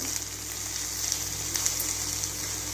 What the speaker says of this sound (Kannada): ಹಾಗೆ ಹಸಿಮೆಣ್ಸಿಕಾಯಿನೂ ಎಣ್ಣೆಯಲ್ಲಿ ಫ್ರೈ ಮಾಡ್ಕೊಳ್ಳೋಣ